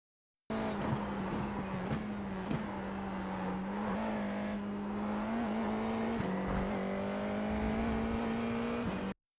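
An FIA F4 race car accelerates down the Suzuka main straight, its engine droning loud and close from onboard with a steady pitch that climbs through gear changes, marked by brief dips at each shift, no voices.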